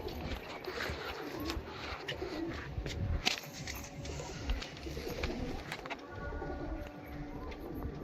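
Pigeons at a pigeon sale in Dankuni, cooing softly and repeatedly up close, along with wing flutters and handling noise, over a busy background murmur.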